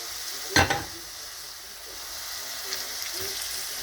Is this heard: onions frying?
yes